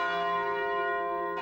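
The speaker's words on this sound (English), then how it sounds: "Churches tolled their bells 29 times, once for each soul on board." A church bell tolls a single long, ringing stroke that sustains and slowly fades, loud and clear, with a faint knock at the end.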